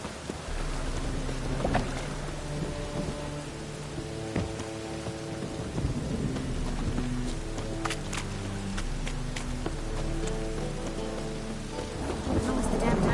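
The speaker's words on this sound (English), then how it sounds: "Witches have conjured rain." Rain in The Witcher 3 patters steadily across surfaces with a low rumble beneath, a constant wet hiss lasting throughout.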